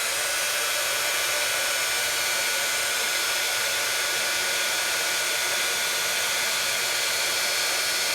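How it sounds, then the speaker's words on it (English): A crafting heat tool blows a steady, loud, hissing airflow without pause while it melts embossing powder, much like a hair dryer running nonstop. "Let me grab my heat tool and we're gonna melt that embossing powder."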